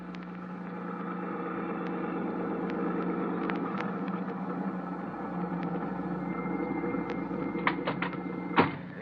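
A car engine drones steadily as a radio drama driving effect, a continuous mid-loud hum with faint rattles and a few clicks, ending in a brief louder clunk.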